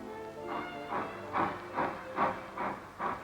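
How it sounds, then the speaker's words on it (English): A 1940s freight train pulls out with rhythmic steam exhaust chuffs, about six evenly spaced hissing bursts over a low rumble, moderately loud and steady. "Here's a freight train pulling out."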